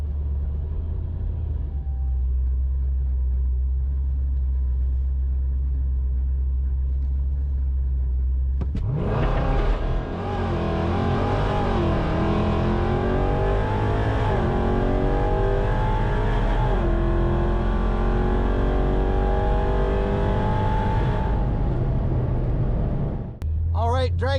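A ProCharged 5.7 Hemi car on a drag strip, idling with a low rumble before roaring into a hard, loud acceleration with rising engine pitch through the gears, then cutting off near the end.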